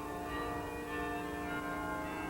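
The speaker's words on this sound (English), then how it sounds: "The chimes of its famous carillon fill the air." The carillon of a Baroque church complex in Portugal rings out, bright sustained bell tones layered together and hanging in the air without a break.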